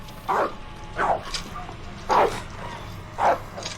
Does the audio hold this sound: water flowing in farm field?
no